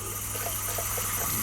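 A sink faucet on a boat or RV runs steadily, its water fed by a Seaflo diaphragm pump, with a constant close rushing flow and a faint pulsing hum underneath.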